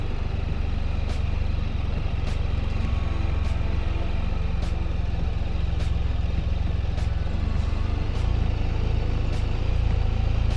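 A Can-Am Spyder RT LTD "Red Baron" idles with a steady, loud low engine rumble during a wet ride, while faint sharp ticks recur every second or so over the drone, with no talking.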